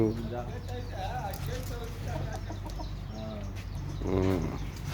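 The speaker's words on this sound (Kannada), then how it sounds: "ಹುಂಜಾಗಳು ಕೋಳಿ ನಾಟಿ ಕೋಳಿ ನಾಟಿ ಕೋಳಿ" Native country chickens and roosters cluck and call nearby while people talk over them outdoors.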